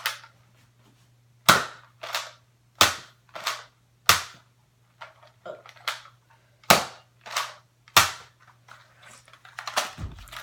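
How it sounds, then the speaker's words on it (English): A Nerf Zombie Strike Hammer Shot blaster fires foam darts in a string of sharp, close snapping shots, roughly a dozen, irregularly spaced over a faint steady hum. "The Hammer Shot is the Zombie Strike series. It can shoot with 5 Zombie Strike darts"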